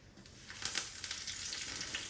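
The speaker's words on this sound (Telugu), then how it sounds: "నెయ్యితో పోపు చేస్తున్నా కదా పొగ బాగా వస్తుంది" Mustard seeds, chana dal, urad dal, dried red chilli and curry leaves crackle and sizzle in hot smoking ghee as a tempering for coconut chutney, a steady close frying hiss with small pops throughout.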